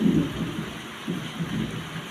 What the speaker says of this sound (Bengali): এই যে ভালোভাবেই বৃষ্টিটা হচ্ছে,